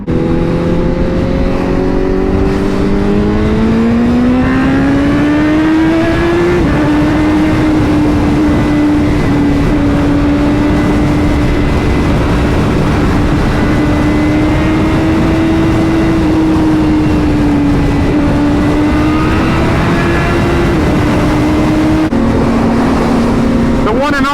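A Honda CBR1000RR-R Fireblade SP superbike engine drones loudly and steadily under way, rising in pitch as it accelerates, then holding a sustained high cruise with wind roar before briefly dropping at the end.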